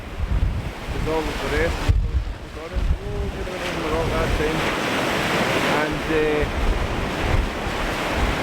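Surf washes against a rocky shore at Kildonan on the Isle of Arran on a windy day at high tide, with steady crashing waves under gusty wind buffeting the microphone while someone talks briefly.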